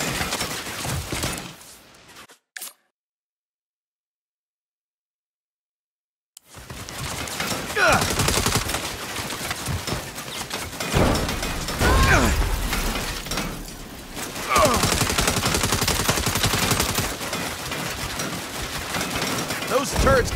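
Turret gunfire in the Saints Row video game, dense rattling automatic bursts that run on for long stretches after a brief silent gap, loud and close, with voices talking over the shooting.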